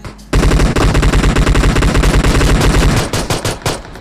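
Pistol fire in a video game comes as a loud, rapid, unbroken string of shots, then breaks into a few sparser bursts at the end.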